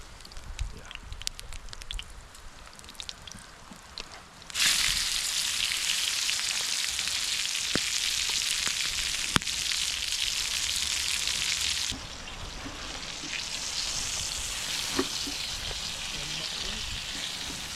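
Onions fry on the embers of a campfire while wild camping in rain and wind, a loud, close, steady sizzle that swells suddenly and then eases slightly.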